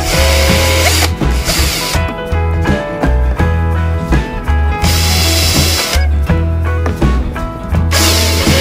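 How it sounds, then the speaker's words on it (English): Power drill boring rivet holes while building a steampunk desk, several loud bursts of high whirring separated by short pauses, close and dominant with no talk. "So I'm now going to set up and drill those to fit this hole."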